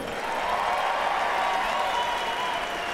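Sustained crowd applause fills a college hockey arena as returning RPI hockey alumni are honored, a dense steady roar of clapping with no pauses.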